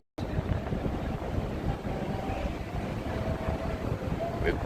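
Outdoors in Las Vegas, gusty wind batters a lavalier microphone, producing a continuous loud, low rumbling roar that fills the whole stretch with no break.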